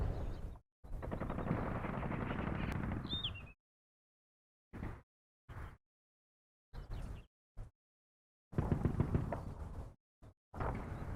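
Machine gun fire in Combat Mission: Battle for Normandy, heard as long rattling bursts of rapid gunfire separated by silent gaps, fairly loud and continuous within each burst.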